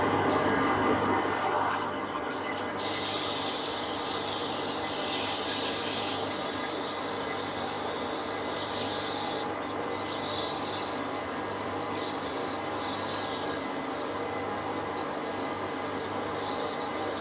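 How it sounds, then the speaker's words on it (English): A steady dust extractor motor drone runs throughout, with a loud rasping noise of 150-grit sanding on a wooden bud vase over it that shifts in intensity, close by. "when we're sanding we need a dust extractor"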